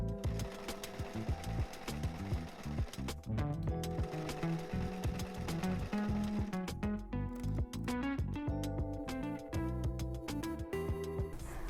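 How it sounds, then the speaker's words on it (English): Sewing machine hemming the top of a fabric pocket for a beach bag, uneven bursts of rhythmic stitching chatter that pause and restart, with small mechanical clicks in between. "The first thing I'm going to do is to hem the top of the pocket"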